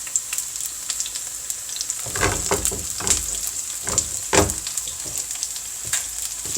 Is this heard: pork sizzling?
yes